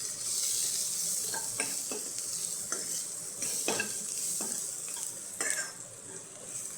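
Potato gravy is stirred in a pan over a steady bed of sizzling, with a utensil scraping and clinking against the pan every second or so.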